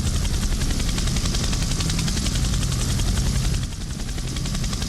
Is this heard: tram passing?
no